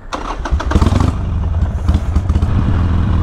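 A budget Harley-Davidson stunt motorcycle engine running at a high, fast idle, a close, loud, throbbing rumble with some rattle and clatter throughout.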